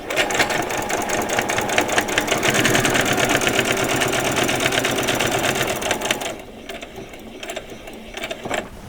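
A sewing machine stitches velcro onto vet scrubs, running in a steady, loud, rapid mechanical rhythm for about six seconds before stopping, leaving quieter handling noises.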